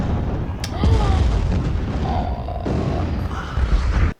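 Heavy artillery barrage explosions from a war drama boom continuously and loudly, with rumbling, overlapping blasts and debris. Shouting voices come through the din.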